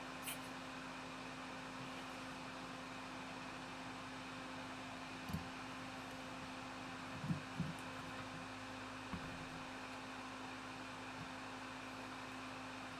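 A blower fan and a suction fan run at a soldering workbench, producing a faint, steady hum with a constant tonal drone and a few soft knocks and clicks.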